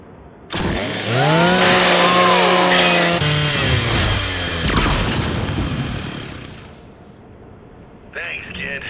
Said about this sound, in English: Just use your Lancer's chainsaw.